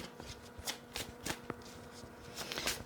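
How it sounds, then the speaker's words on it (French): Three oracle cards are drawn from a deck, giving papery riffles, slides and soft taps in quick irregular bursts close by, with no talking. "Là, je vais tirer 3 cartes"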